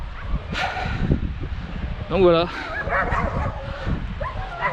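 Dogs bark and yip at a busy seaside campsite in Le Tréport, a few harmonic barks standing out around the middle amid general background chatter and noise, with someone talking over it.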